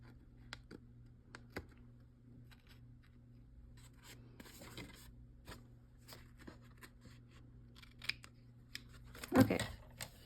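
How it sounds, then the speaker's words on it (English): Quiet, irregular snips of sharp scissors cutting paper card along a score line, crisp paper sounds scattered over several seconds, ending with a louder rustle and cut close by. "Let me get these nice sharp scissors and cut away that score line."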